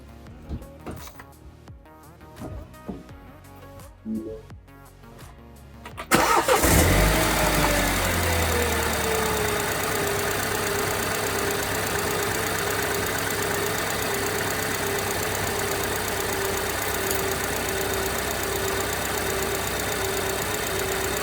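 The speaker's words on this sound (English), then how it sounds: "I'll fire up the car and let you hear what it sounds like." After some quiet clicks and rustles, a Mini Cooper S F55/F56 engine with a newly installed air filter cranks and fires, then settles into a steady, loud idle that drones on close by.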